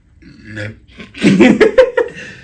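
A few loud, close burps come in a rough cluster after a short vocal sound, with a chuckle-like tail and no clear words.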